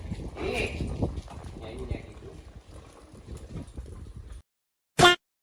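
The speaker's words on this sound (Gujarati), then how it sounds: "મંચ પર આવી ગઈ છે નિલેશભાઈ ખાનની ઘોડી" A mare's hooves clop as she walks onto a stage, heard amid steady crowd noise and voices for about four seconds before the sound cuts out, followed by one short loud burst.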